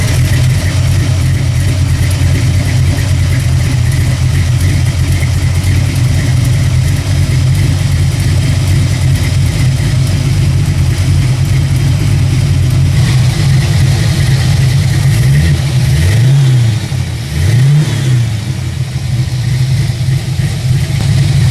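A Fox Body car engine idles steadily at 700 rpm with a loud, continuous low rumble, briefly revving twice near the end before settling back down.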